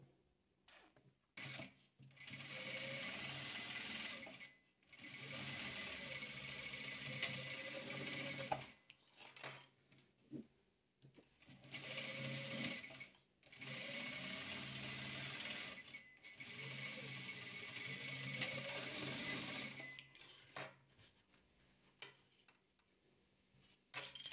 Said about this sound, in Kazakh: Қызыл шаршымызды көк шаршымызға дәл осындай қылып тігіп аламыз.